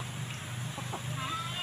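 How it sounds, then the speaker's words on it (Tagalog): Native Bisaya chickens cluck at close range on a rural farm, soft irregular clucks and calls over steady background noise. "Ito yung ating mga manok guys"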